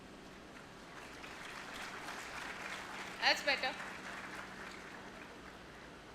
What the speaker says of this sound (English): the applause can be much louder.